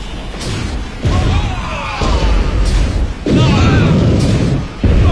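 A small cannon fires several heavy booming blasts at intervals, each with a sharp onset and a rumbling tail, loud and close, with voices partly underneath.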